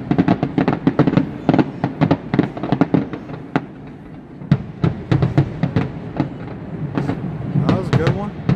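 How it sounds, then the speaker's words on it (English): Rapid crackling New Year's fireworks bursts in Hawaii in quick clusters, moderately loud, with people talking and calling out in the background. "that was the preemptive fireworks show"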